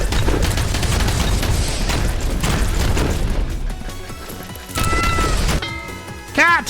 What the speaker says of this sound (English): Cat! Did you hear cat?